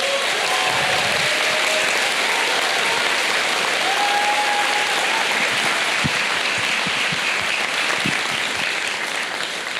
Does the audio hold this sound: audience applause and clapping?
yes